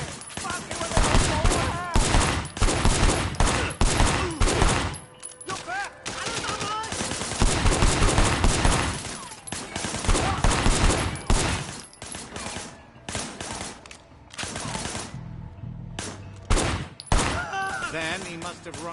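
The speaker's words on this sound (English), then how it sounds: "Shooting at the guys over there." Gunfire in the video game Sleeping Dogs: dense bursts of rapid shots and automatic fire crackle loudly through most of the stretch, with brief lulls, against busy game sound and occasional faint voices.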